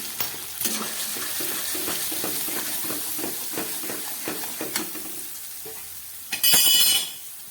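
Ginger and green chilli fry in hot oil as coriander powder and turmeric are added, giving a steady close sizzle with stirring scrapes and a sharper burst of hissing near the end.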